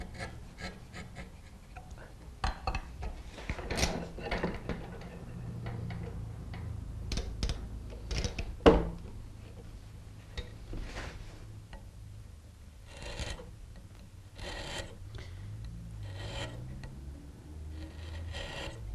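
Hand carving of a wooden ball and claw foot, edges being knocked off to round the claws: scattered quiet scraping and tapping strokes in irregular bursts, close and fairly faint.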